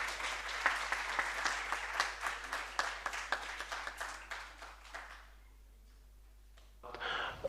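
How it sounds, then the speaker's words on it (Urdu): An audience at a higher education event applauds to welcome the chief guest on stage, a dense clapping that thins and fades out before a brief murmur returns at the end. "آپ کی بھرپور تالیوں میں استقبال کریں گے."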